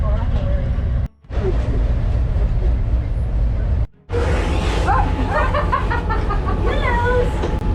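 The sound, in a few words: train moving along the tracks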